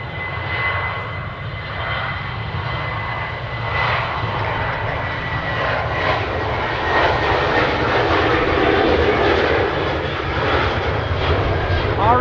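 A Canadian North airliner departing Edmonton International Airport, its engines a sustained broad roar at moderate distance, holding steady and swelling slightly toward the end while someone talks over it.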